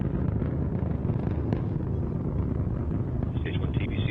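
Antares rocket engines at full thrust climbing during the Northrop Grumman CRS-19 Cygnus cargo launch, a steady broadband roar with low rumble and wind buffeting, heard from a distance over talk.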